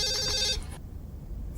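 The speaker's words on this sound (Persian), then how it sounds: "تلفن داره زنگ میخوره" A telephone rings loudly nearby in an indoor drama scene with an electronic warbling trill, then cuts off halfway through, leaving a quiet room hum.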